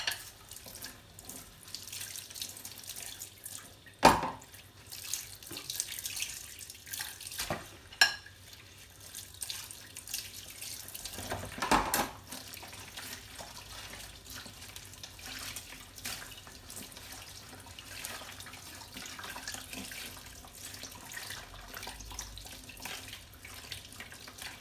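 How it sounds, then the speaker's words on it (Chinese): Plates being rinsed under a running kitchen tap, a steady stream of water splashing into the sink with occasional louder clinks and splashes as the dish is moved, no talking. "我把盘子洗一下就可以了。"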